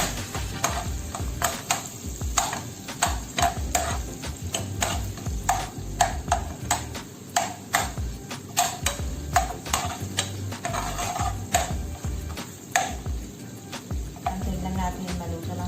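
Garlic sautés in a hot pan, a continuous crackling sizzle with a steady series of sharp utensil taps and scrapes against the pan as it is stirred, close and clear, no voices.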